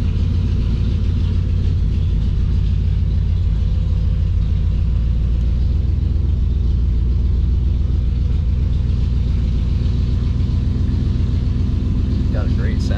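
A cold 1950 Ford Coupe engine runs steadily just after a cold start, a loud, continuous low rumble with an even idle throb throughout and no other sounds over it.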